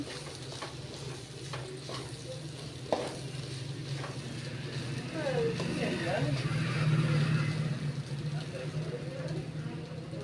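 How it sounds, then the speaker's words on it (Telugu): Egg and rice are stirred in a hot pan with a soft scraping over a continuous sizzle, steady and close. A person talks intermittently over the cooking. "బాగా ఉడికినాక కలబెట్టండి."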